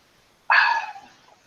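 A puppy gives a single sharp, close bark after silence, trailing off into a brief fading whine.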